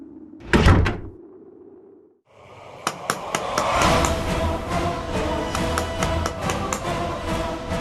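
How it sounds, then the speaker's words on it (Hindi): A door closes with a sharp knock and clatter at a home at night, followed by muffled domestic noise and several light taps, heard close with no talking. "तू जाकर दरवाजा बंद कर दे।"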